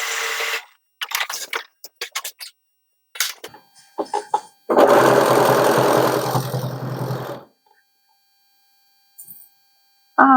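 A sewing machine stitches a Sherpa-lined coat in short stop-start bursts of rapid mechanical whirring, then one longer steady run of several seconds, with silent pauses between, close and clear.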